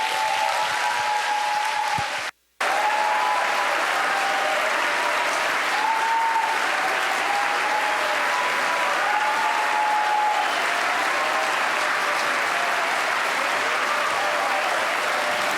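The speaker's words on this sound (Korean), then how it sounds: "목사님 나오실 때 큰 박수로 맞이해 주십시오." A church congregation at a Seoul joint worship service applauds to welcome the pastor: dense, sustained clapping from a large crowd that cuts out briefly near the start, then carries on steadily and evenly.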